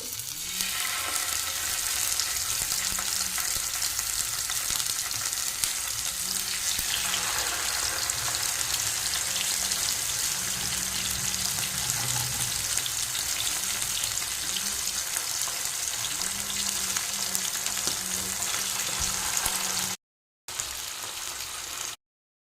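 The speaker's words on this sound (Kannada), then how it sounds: "ಇನ್ನು ನಾನು ಫ್ರೈ ಮಾಡ್ತೇನೆ ಇದನ್ನು ಸ್ವಲ್ಪ ಸ್ಲೋ ಫ್ಲೇಮಲ್ಲಿ ಫ್ರೈ ಮಾಡಬೇಕು" Marinated fish fries in a pan over a slow flame, with a steady, loud sizzle and crackle throughout and a few faint clinks and stirring noises beneath.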